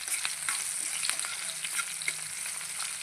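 Onions frying in a pan until reddish, with a steady close sizzle and frequent sharp stirring clicks and scrapes of a spatula. No one speaks.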